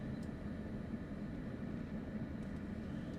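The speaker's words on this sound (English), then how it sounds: "You can't see it, but we are currently taxiing alongside, I think this is runway 20 left." Singapore Airlines A350 taxiing toward the runway, heard from inside the economy cabin as a steady, low engine rumble and hum, fairly quiet and unbroken, with no talk.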